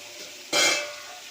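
Chicken frying in a pan over a high flame gives a sudden loud burst of sizzling and stirring midway, fading to a quieter sizzle afterward.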